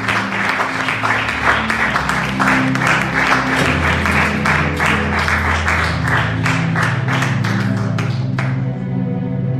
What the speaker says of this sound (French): with a shout of praise and clap offering, let's welcome each other